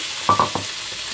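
Chopped onions hit hot oil already holding cumin, bay leaf and green chillies, giving a brief, close sizzle with a few quick crackling bursts.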